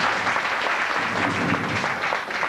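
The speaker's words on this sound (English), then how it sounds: "Give them a big round of applause." Applause from the audience at a dance-group competition in Edinburgh, a dense, even wash of clapping heard fairly close and steady throughout the short stretch.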